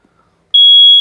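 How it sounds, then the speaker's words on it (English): An RV smoke detector sounds a single sharp, loud, high-pitched test beep held for about half a second, heard alone after near silence. "hold the test button until it beeps"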